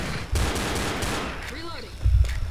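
Gunfire from the zombie co-op shooter Left 4 Dead: dense, sustained automatic shooting with heavier bursts near the start and end, a voice faintly audible in the mix.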